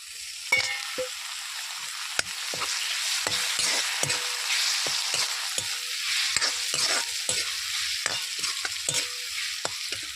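Onions, chillies and tomato sizzle steadily in a hot pan, with repeated sharp clicks and scrapes of a spoon stirring throughout; no one speaks.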